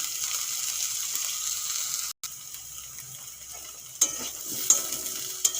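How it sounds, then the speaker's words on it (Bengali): Soya chunks fry in hot oil in a pan until reddish, giving a steady, close sizzle broken by a brief gap, with sharp scraping clinks of a utensil stirring against the pan. "সয়াবিন লাল লাল করে ভেজে নিয়েছি এখন তুলে নেবো"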